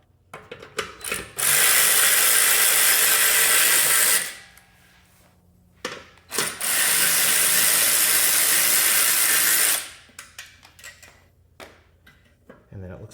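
A ratchet works the three 10mm bolts off an exhaust valve motor under a Toyota GR Corolla, two long bursts of rapid, loud clicking, each followed by a pause with small tool clinks.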